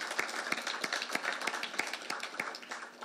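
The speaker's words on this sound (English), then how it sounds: "I think that again deserves an applause." Sparse, distinct handclaps ring out at a corporate anniversary event, a small scattering of individual claps at uneven intervals, fairly faint and thin rather than a full ovation.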